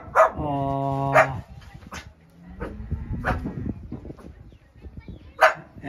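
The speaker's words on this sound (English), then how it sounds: "Oh, we got little doggies, little puppies." Puppies bark and yip near a barnyard by a cheese-making place near Mazamitla, Mexico, giving a few sharp close barks and a long whining howl, with brief exclamations from a person nearby.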